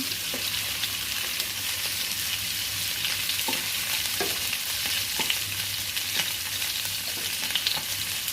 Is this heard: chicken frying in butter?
yes